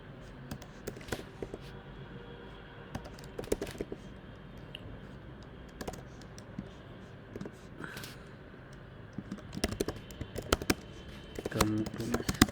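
Keyboard typing in the Eclipse IDE, irregular clicks and taps scattered across the stretch, growing busier toward the end, with some faint talk in the background.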